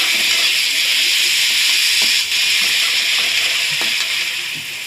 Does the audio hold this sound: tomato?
yes